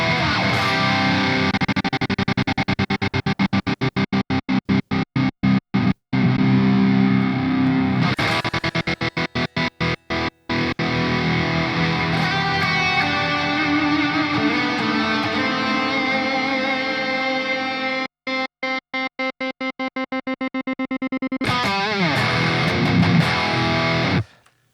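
Electric guitar run through a stutter and reverb effect pedal, sustained chords chopped into rapid rhythmic gated bursts that stop and restart, with reverb tails ringing out between sections; loud and alone, no talking.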